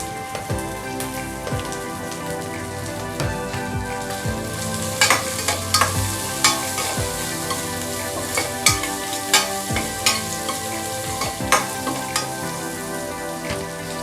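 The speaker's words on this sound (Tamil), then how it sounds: "நல்லா கிண்டி விட்டுக்கோங்க." Green chili, dried red chili and garlic sizzle in a hot pan for dal rice while a spoon stirs them, with steady crackling frying and repeated sharp scraping clinks against the pan, close and alone without speech.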